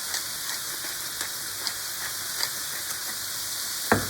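Bacon-wrapped cod frying in a pan, a close, steady hiss of sizzling fat with small crackles and pops at intervals and one sharper spit near the end, with no voices.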